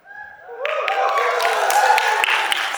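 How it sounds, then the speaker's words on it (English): A crowd bursts into sustained applause and cheering that builds quickly and holds steady, with a voice briefly audible at the start. "Let's give them a big round of applause."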